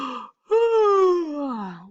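Little Monster, a child character, lets out a long drawn-out voiced yawn, a short breathy intake followed by a sustained sliding moan that falls slowly in pitch, close and clear with no other sound.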